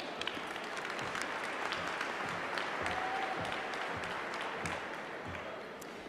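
Sustained applause fills a hall as an audience welcomes the president of the Fulton County Board of Education at a school awards show, a dense, even wash of many hands clapping at a moderate distance, with no speech.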